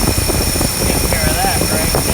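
A 1960 Dodge Polara engine running steadily at close range, a dense continuous rumble with a high whine over it, while someone talks briefly.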